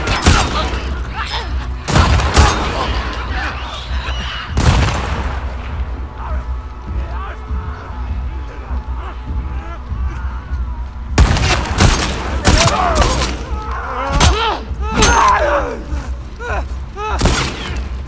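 Scoped rifle gunfire in The Last of Us Part II, with loud, sharp shots spaced unevenly, a few early and a denser cluster near the end, over a steady low rumble of game ambience.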